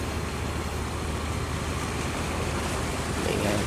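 A large wooden fishing boat of about 25 metres, heavily laden and bound for La Gi port, speeds through the sea. It makes a constant, loud rush of spray and churning waves over a steady engine drone.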